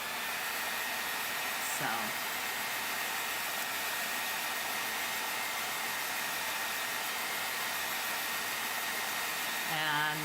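A hair dryer blows steadily to dry a layer of paint on a miniature figure, a constant close whooshing hum for the whole stretch, with a brief spoken word at the end.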